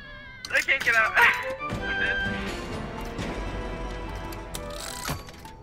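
A cat meows several times in the video game Make It To Midnight, loud bursts near the start and then fading under game noise and crashes, with a voice in the background.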